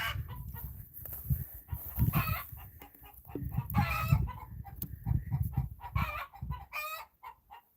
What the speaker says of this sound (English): the hens are cackling